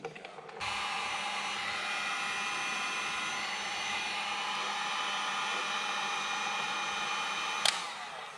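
A heat gun blowing hot air to shrink a heat shrink sleeve over wiring during a Porsche 911 997.2 Turbo rear subframe install, a loud, steady roaring whoosh that switches on abruptly and runs continuously up close.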